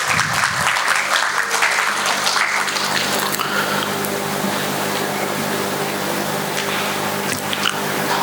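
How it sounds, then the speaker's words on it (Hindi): A crowd applauds steadily, a dense wash of clapping that stays loud and even for several seconds. "एक बार करतल ध्वनि के साथ उनका स्वागत करें"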